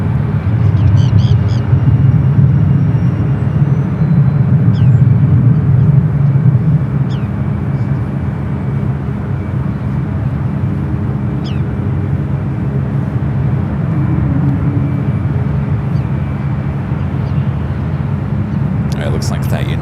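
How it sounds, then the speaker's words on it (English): An Air Canada Airbus A220-300 arriving to land at San Francisco airport: a loud, steady low jet roar fills the whole stretch, with faint voices or radio chatter and occasional light chirps over it. "Air Canada Airbus A220-300 up next for arrival"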